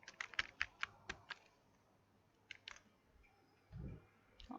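Typing on a computer keyboard during a Python programming lesson: quick clusters of crisp key clicks, a pause, then a few more taps, close and fairly quiet with no talking.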